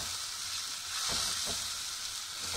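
Ground spice masala with coriander powder and turmeric fries in a pan for kadhi, giving a steady close sizzle and hiss, with two soft stirring swishes partway through and no voices.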